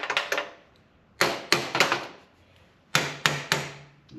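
An adjustable crescent wrench used as a hammer strikes a truck axle saddle on a Ford F600 rollback, three quick bursts of sharp metallic taps, three or four blows each, close and ringing.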